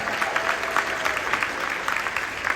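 Audience clapping for city commissioners at a State of the City address, a steady dense patter of many hands filling the room, fairly loud and continuous.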